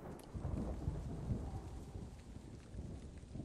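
Steady rain hisses throughout a Rise of the Triad (2013) game scene, with low rumbles of thunder rolling in early on and then settling into a continuous wash of rainfall, with no speech.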